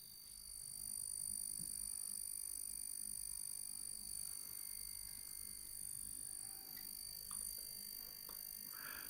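A steady high-pitched whine from an electronic pest repeller plugged into a socket drones on continuously, faint under low background hiss and a few soft clicks, with no voices.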